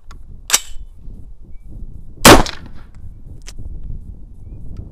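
An AR-15 rifle with a 22mods4all upper and Anderson lower fires test shots outdoors: three sharp, loud reports spread over a few seconds, the middle shot the strongest, with quiet background between them.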